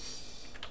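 Short burst of keystrokes on a computer keyboard set to a QWERTY layout while installing the Yoper Linux distribution, a few close, crisp clicks with no talk.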